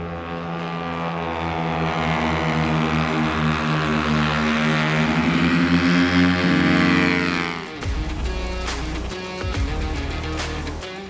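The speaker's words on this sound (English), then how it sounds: "this is one loud exhaust" A 60bhp TVS Apache RR 310 race motorcycle with a loud exhaust revs and holds a high, droning note, then drops off abruptly into a rougher, rumbling idle.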